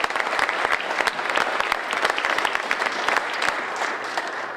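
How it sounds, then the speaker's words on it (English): An audience at a basketball press conference breaks into steady applause, many hands clapping in a dense, sustained burst that carries on for several seconds at moderate loudness. "Let's give him a round of applause."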